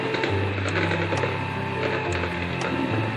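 An electric hand mixer at medium speed beats cheese cookie dough, a steady close motor whir with a shifting low drone and faint scraping clicks throughout.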